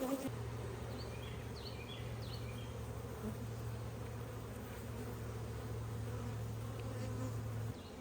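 Steady, dense buzzing of many honey bees around a hive, continuous and close, with a low hum throughout and occasional higher chirps in the background.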